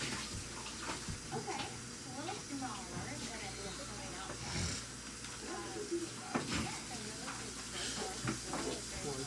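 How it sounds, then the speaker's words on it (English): Running water from a tap splashing over a greasy plate being washed, a steady close hiss and gush that rises and falls with the scrubbing. "Let me give you this plate to wash."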